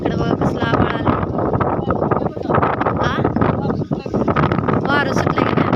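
Gusty wind roars steadily across an open farm field under gathering dark clouds, with a close, rumbling buffet on the microphone throughout and someone talking over it.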